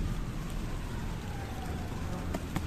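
Rain falls steadily outdoors during grass and pebble garden work, a soft continuous hiss with occasional drips, faint and unbroken, with no voices.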